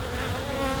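A handful of honeybees hover close around an open beehive, their wings making a steady, dense drone that stays level throughout, with no talking.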